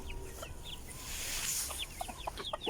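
Hens in a backyard coop, among them a small young one not yet laying, give soft scattered clucks over a rushing background hiss, faint and fairly distant.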